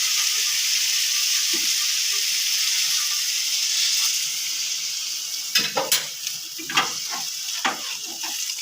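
Water poured into a pan of spice paste and potatoes frying in oil brings a loud, steady sizzle, followed by a run of sharp stirring scrapes and clatters near the end.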